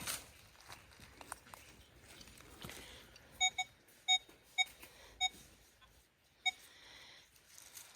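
A metal detector gives a series of short, sharp signal beeps spaced about half a second to a second apart while sweeping for targets outdoors, clear over faint background rustling.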